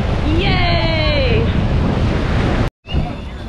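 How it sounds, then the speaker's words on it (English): Ocean waves wash onto a sandy beach of soft white sand and blue water at a Riviera Maya resort, a steady broadband surf roar mixed with wind buffeting, a faint voice-like tone early on and a brief dropout near the end. "really beautiful beach with soft white sand and no seaweed and pretty blue water"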